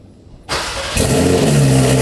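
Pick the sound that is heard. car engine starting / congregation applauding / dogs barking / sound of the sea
car engine starting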